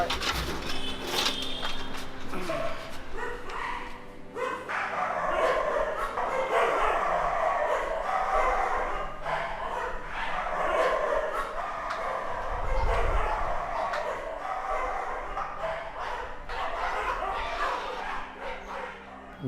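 Street dogs in Mumbai bark and yip in a busy outdoor setting, with repeated close barks over steady traffic-like background noise and some voices.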